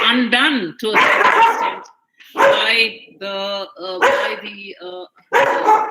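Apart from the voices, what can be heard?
dog barking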